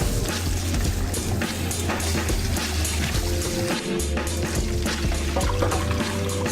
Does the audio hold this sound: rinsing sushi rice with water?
yes